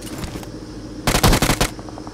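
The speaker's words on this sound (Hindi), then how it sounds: "तभी हमें फायरिंग सुनाई देती है, वो भी रियल बंदों की।" Rapid automatic gunfire in a battle royale video game, a loud close burst of about half a second of dense shots in the middle, with fainter background sound before and after.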